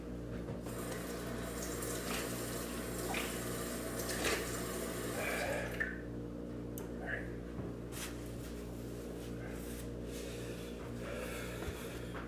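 Water runs from a tap in a faint, continuous hiss with a low background hum, broken by a few short knocks and splashes.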